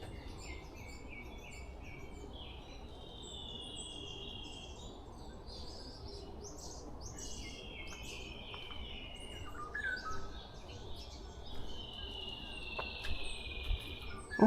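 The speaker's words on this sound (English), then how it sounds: "Oh, there's a different bird." Several forest birds sing and chirp in the early morning woods on Bongseosan, with clear repeated whistled phrases ringing out over a constant hum of insects, fairly close and without any talking.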